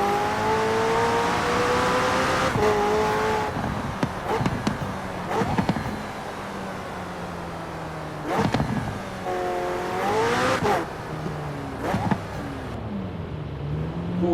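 McLaren 600LT supercar engine in the racing game Forza Horizon 4, revving and climbing through gears with sharp upshift drops and repeated throttle blips, loud and continuous throughout.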